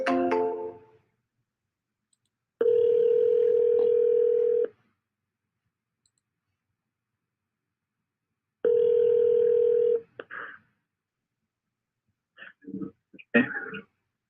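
A telephone line plays a steady tone in two long bursts separated by silence, followed by short scattered electronic blips and clicks, as if a number is being called on a phone heard through a computer.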